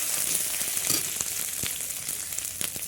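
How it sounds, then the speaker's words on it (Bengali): Ginger fries in oil with a little turmeric, giving a low steady hiss with a few brief pops and light stirring taps, soft and close, without any speech. "আদাটা ভাজা হয়ে গেছে"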